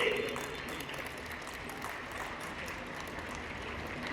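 Dense, steady clapping from a large crowd at a national Scout and Guide jamboree fills the space throughout, with a faint voice underneath.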